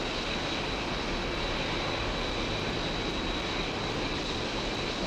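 A heavy freight jet at Heathrow's runway 09R gives a loud, steady roar that fills the whole stretch without a break, with a thin high whine running through it.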